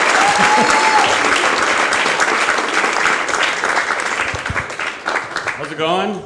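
A comedy club audience at Gotham applauds and cheers for a comedian in a dense, sustained wash of clapping that slowly thins, with a voice speaking over it near the end.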